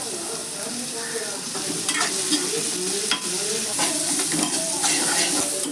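Onions sizzle and sauté in hot oil with curry leaves and green chilies as a spoon stirs and scrapes the pan, a steady frying hiss close by.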